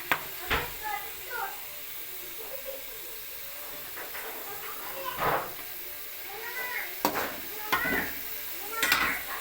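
Food frying in hot oil, a soft continuous sizzle and bubbling close by, punctuated by sharp clinks of a utensil, with a person talking over it.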